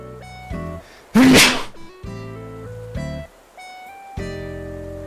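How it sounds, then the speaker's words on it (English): A single sharp, noisy sneeze bursts out over a backdrop of steady electronic game music. "I think I'm gonna sneeze"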